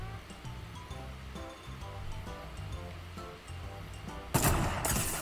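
Sniper rifle shots in a Japanese arena-mode video game, repeated sharp reports over steady game music and ambience, with a loud burst of noise near the end.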